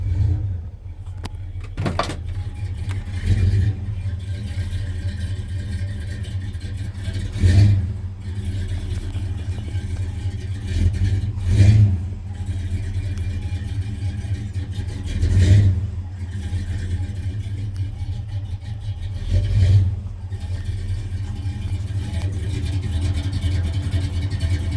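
A 1978 Ford F-250 engine runs after a cold start with a steady low rumble, close and loud, swelling in a few periodic revs roughly every four seconds.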